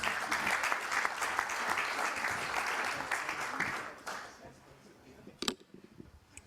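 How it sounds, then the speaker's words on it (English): A roundtable audience applauds panelists at a discussion event, a steady dense clapping that fills the room for about four seconds, then thins and fades with a few scattered claps. "Please spend a round of applause for our panelists"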